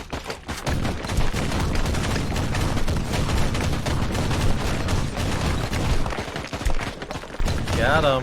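Rapid bursts of gunfire, with booms and impacts, fill the combat of the video game Warhammer 40,000: Inquisitor - Martyr, dense and continuous with a brief spoken remark over it.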